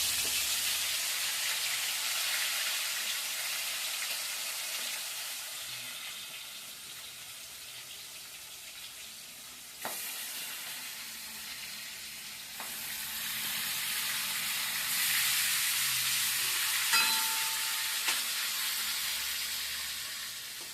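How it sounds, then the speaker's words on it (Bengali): Kalbaus fish frying in hot oil in a wok, a steady, loud crackling sizzle with a few sharp pops and spits from the pan. "তেলটা গরম হয়ে গেছে এখন মাছটা কড়াইতে দিয়ে দিচ্ছি"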